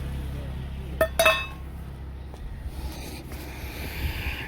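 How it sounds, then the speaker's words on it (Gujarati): A metal tiffin lunch box is opened, giving a quick pair of bright metallic clinks followed by faint handling sounds over a low background hum. "ટિફિન ખોલી નાખવાનું।"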